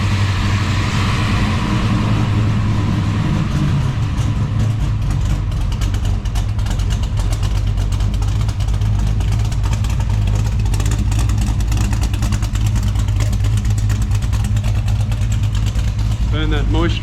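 Holden HT Monaro engine warming up, a loud, steady idle with a deep continuous rumble held close for the whole stretch and no clear revs.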